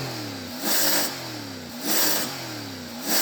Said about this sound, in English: So I'm going to rev up this American V8.